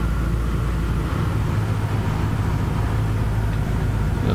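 Light aircraft sideslipping on a tree-lined approach to land at Popham airfield, a steady loud drone of engine and wind noise heard from inside the cockpit, with no voices.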